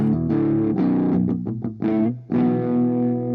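A crunchy, overdriven electric guitar through a vintage crunch amp plugin on an ESI Amber i1 audio interface's high-Z channel plays a short riff of chords, loud and close, ending on a ringing sustained chord.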